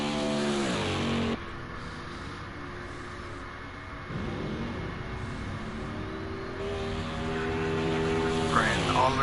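Simulated stock cars lapping a track in a NASCAR Winston Cup racing game at the Southern 500, engines droning and shifting pitch as they pass, a steady loud roar rising toward the end.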